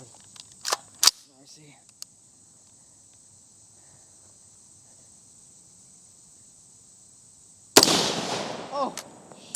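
A gun fires one loud, sharp report with a Fleshlight pushed over the muzzle as a makeshift suppressor, preceded by a few small clicks and a long quiet stretch, then a brief noisy decay.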